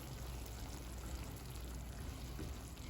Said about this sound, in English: So I'm gonna add half a cup of water just so I can have enough.